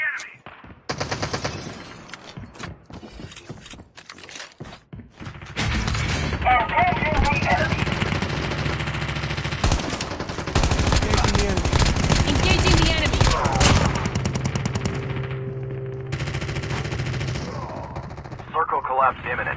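Gunfire in the Call of Duty Mobile battle royale on the Alcatraz map: after sparse single shots, dense automatic bursts rattle almost continuously and loudly, with brief pauses and a trailing final volley.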